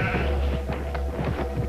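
A sheep named Rambo bleats in the adventure game Paranormal Investigator, a close, wavering series of short bleats repeating over a low steady hum.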